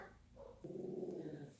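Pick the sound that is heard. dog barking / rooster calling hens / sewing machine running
dog barking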